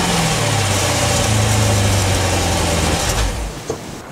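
A 2013 Jeep Grand Cherokee SRT8 with a 6.4-litre naturally aspirated V8 idles close by, a loud, steady low rumble that holds for about three seconds before easing off slightly.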